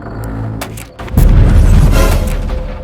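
An animated cartoon plays a bomb-like explosion effect: a softer rumble, a brief dip, then a loud, booming blast that rolls on with crackling debris.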